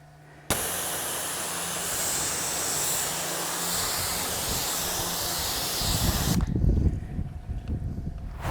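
A pressure washer sprays water to rinse pre-wash foam off a car, giving a loud, steady broadband hiss for several seconds before cutting off abruptly into splashing and dripping.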